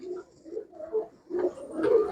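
A pigeon offered for sale gives soft, low coos in short repeated bursts close by, with brief pauses between phrases and no talking.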